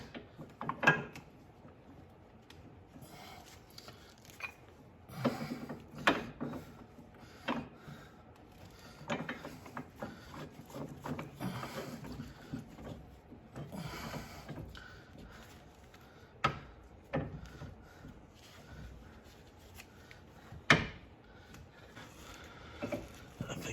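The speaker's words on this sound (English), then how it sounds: "we'll use this piece and the vise to push on the bottom of this and get it pressed into place" A bench vise presses a ball joint cup into place on a 2014 Elantra, with faint metallic clicks and creaks of the handle ratcheting at irregular intervals. Quiet speech accompanies it.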